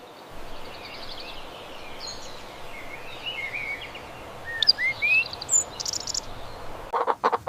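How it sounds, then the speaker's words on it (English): A bird chirping among other animal sounds for children. Small, faint tweets come and go over a steady hiss of background noise, getting a little busier near the end, with no voices. "It's a bird."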